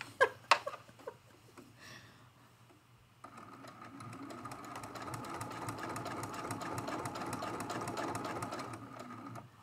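After a few clicks and handling noises, a sewing machine starts and runs steadily for free motion quilting on an art quilt, a close continuous whirring hum with a fast stitching patter.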